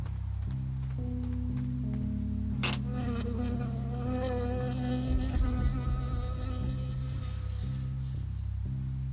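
A bee buzzes close by in the forest of the video game Firewatch, a steady droning hum that swells and wavers for several seconds over a quiet ambient bed.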